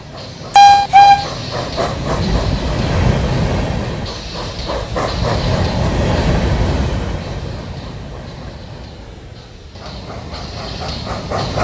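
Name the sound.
cartoon train Jasper moving along rails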